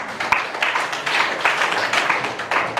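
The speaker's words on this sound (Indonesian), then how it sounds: "Tepuk tangan untuk dia." A class of students claps for a classmate with steady, moderately loud applause that has a faintly rhythmic pulse and continues throughout.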